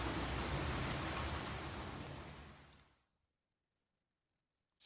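Steady rain hisses loudly and evenly for about three seconds, then fades abruptly into silence, as a short sound effect for rain beginning to fall while someone waits for a bus.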